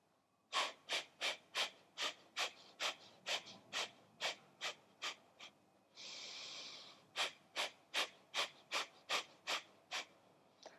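Steady, rhythmic yoga breathing with about twenty close, even breaths in a slow regular cycle, broken once by a longer, held airy exhale before the pattern resumes.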